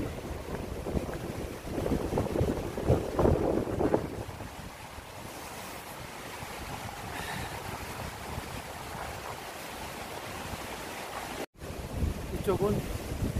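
Wind gusts and rain buffet the microphone on a seaside lookout over the East Sea at Jangho harbour, a loud rushing roar with a sharp dropout near the end.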